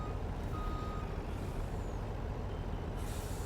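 A truck with a trailer reverses in Farming Simulator 19, a steady engine rumble with a hiss of air brakes and a faint repeating reversing beep, no voices.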